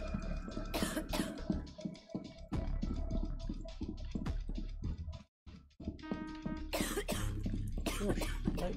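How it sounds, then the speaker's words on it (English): A character in the video game Rainbow Six Extraction coughs several times in rough, separate bursts, with some throat clearing, over faint clicking game sounds and a short silent gap. "Cough."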